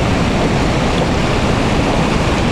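A mountain stream on the trek to Tirich Mir Basecamp rushes past as a loud, steady, broadband roar of flowing water. Nothing else is heard and no one speaks.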